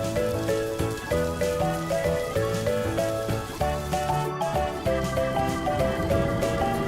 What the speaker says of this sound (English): The boy is wet in rain.